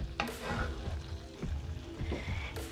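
Steady sizzling and crackling of chicken, onion and peppers frying in a pan, with faint stirring scrapes, close and continuous.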